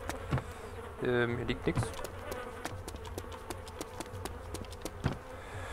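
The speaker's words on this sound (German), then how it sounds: "Und dieses Gesumme, das ihr gerade hört, das sind Fliegen." Flies swarm over corpses in the DayZ game world, a steady insect buzz that runs through the whole stretch with a few sharp clicks on top, while one person briefly says something over it.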